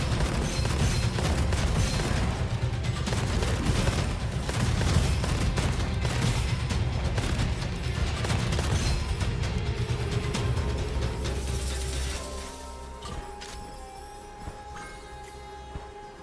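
Dense, rapid gunfire and explosions from the shooter game Gunfire Reborn roar continuously, loud and layered, then thin out toward the end.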